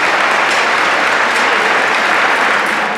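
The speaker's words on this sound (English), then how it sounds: "So if we can get one more huge round of applause for all of the folks that we're fundraising for tonight." A fundraising auction crowd gives a big round of applause: loud, dense clapping from many people, close and sustained for three seconds without any speech.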